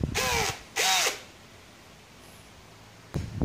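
An Aneerpower 13mm cordless brushless hammer drill whirs in short bursts, two quick trigger pulls rising and falling in pitch, then a pause and a third burst starting, close and alone.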